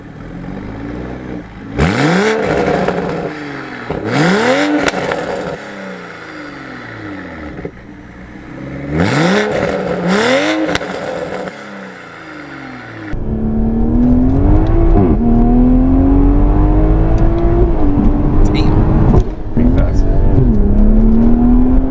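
A 2021 Toyota Supra 3.0 fires up and revs in several sharp, rising blips, then settles into a loud, steady, close engine drone.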